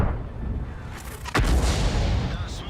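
GW E100 self-propelled artillery firing in World of Tanks: a single heavy boom roughly midway, sudden and loud, followed by a rumbling tail under a low background hum.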